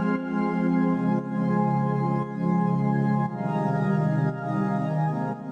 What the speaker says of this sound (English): The normal synth progression during the choruses sounds like this.